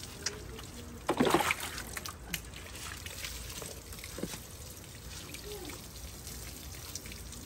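Water is poured once in a short, close splashing burst, followed by quieter trickles and background ambience, with no speech.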